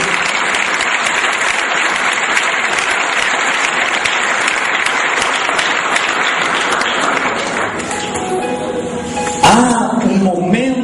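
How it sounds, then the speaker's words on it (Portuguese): A church congregation breaks into loud, sustained applause, a dense wash of clapping filling the room, which thins toward the end as music and a voice begin to come through. "Pode aplaudir o Senhor."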